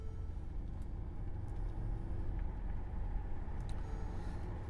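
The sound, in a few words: Mercedes G63 AMG engine and turbos with aftermarket downpipes and exhaust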